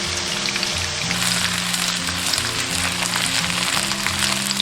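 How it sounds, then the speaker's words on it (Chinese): Winter melon pieces skin-side down pan-frying in cooking oil over medium-low heat, a steady close crackling sizzle running throughout with a low background hum. "冬瓜皮朝下，中小火慢煎，把这个皮稍微煎一下"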